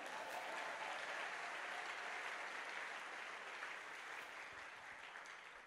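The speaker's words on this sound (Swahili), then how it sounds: "Chapia Bwana makofi." A congregation in a church service in Bukavu, Congo claps for the Lord, sustained dense applause filling the space evenly, slowly easing slightly toward the end.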